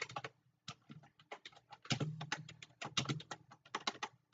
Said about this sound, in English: God, I suck at typing.